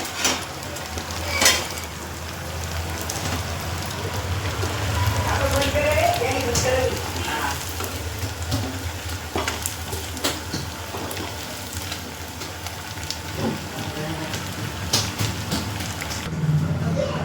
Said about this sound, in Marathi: सगळे वडे तळून झाले आपले